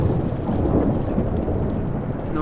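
A thunderstorm rumbles and rain pours steadily in the Life is Strange video game, a loud, dense roar that holds unbroken with no voices over it.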